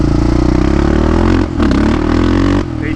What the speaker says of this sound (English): This Lex exhaust sounds really good.